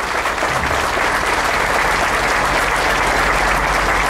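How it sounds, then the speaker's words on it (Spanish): Loud, sustained audience applause at a mayor's welcome ceremony for the president, a thick wall of clapping that holds steady from start to end. "Fuertes aplausos para nuestro Dios Todopoderoso en esta mañana"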